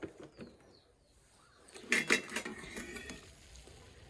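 Spoon stirring freshly cooked hot rice inside a rice cooker pot, a few soft scrapes and light clinks clustered in the middle, fairly quiet with no talking.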